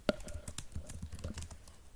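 Keys clatter on a computer keyboard in a quick, irregular run of light clicks and taps, close and clear with no voice over them.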